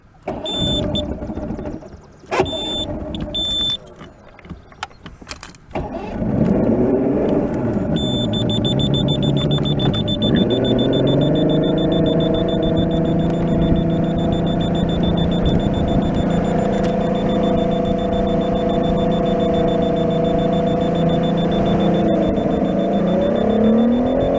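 An old bass boat's two-stroke engine, left ten years under a tarp, coughs and sputters through a few tries, then catches and runs loud and steady, while a thin, high alarm tone whines throughout.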